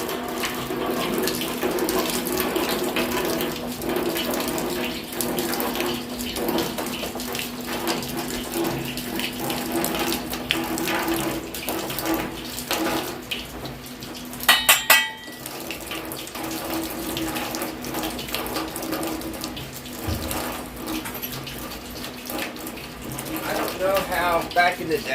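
Water running steadily from a tap and draining away in an old ringer washer setup, a continuous splashing rush with a brief clatter midway and someone talking over it.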